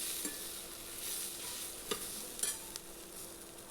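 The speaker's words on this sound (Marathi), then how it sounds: "इथे आपल्याला टोमॅटो घालायचा आहे टोमॅटे आपल्याला दोन मिनटं परतायचं आहे" Tomatoes sautéing in a pan make a soft, steady sizzle, with a few light scrapes and clicks of a spoon stirring, quiet and close.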